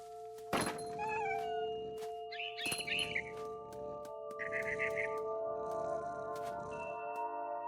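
A cat meows a few times in a video game scene, short cries with some bird chirps and thumps around them over a steady ambient hum.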